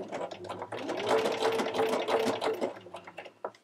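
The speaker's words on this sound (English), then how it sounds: "So I'm just going to sew pretty slow and continue along" A sewing machine runs slowly through microsuede fabric, giving a steady close mechanical whir with a rapid stitching chatter. It slows and fades near the end.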